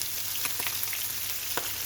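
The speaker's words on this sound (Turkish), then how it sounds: "İlk önce birinci yüzlerini kızartacağım." Steady hiss and crackle of Atlantic bonito (palamut) frying in oil in a pan, with small pops scattered throughout.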